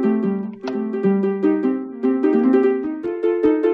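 A bright, plucky Minecraft note block melody, a Teenage Mutant Ninja Turtles doorbell tune, of short tuned notes stepping up and down in a steady bouncy rhythm, played cleanly with no voices.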